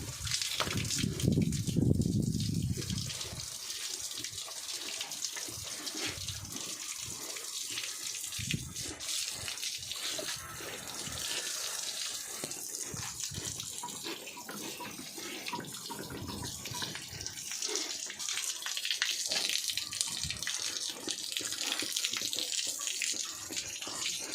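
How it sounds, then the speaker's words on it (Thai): Strong water gushing steadily from a hose while a pig is bathed, a loud continuous rushing spray that carries on throughout with brief splashing shifts in tone. "น้ำก็กำลังไหลแรง"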